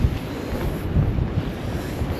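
Strong gusting wind, forecast at around 70 km/h, buffets the microphone on Ruta 40 toward Ushuaia, a loud continuous low rumble with pulsing gusts and no voices.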